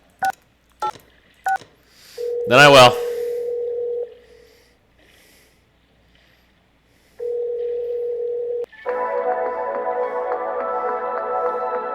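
Telephone keypad tones in Kentucky Route Zero: three quick beeps, a longer dialing burst, a steady tone that stops and returns, then a buzzy ringback, all crisp and close, with one brief spoken line.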